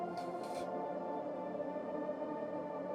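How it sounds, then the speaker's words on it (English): A dark, sustained synth pad drones steadily with a wavering, eerie tone, faint and ambient, with a couple of airy swells at the start. "this is the pad we have going on under everything."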